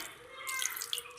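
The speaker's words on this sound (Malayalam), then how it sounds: "കുറച്ച് വെള്ളം ഒഴിച്ചു കൊടുക്കാം." A little water is poured into a prawn masala mixture in a cooker, heard as a short, soft splashing trickle close by, with no speech.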